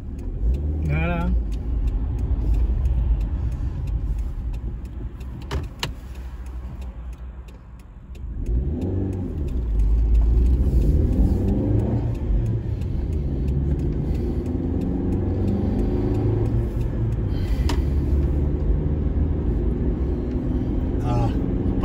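Road noise and a low engine rumble fill the cabin of a moving car, steady and close throughout, with people talking over it and occasional clicks and rattles.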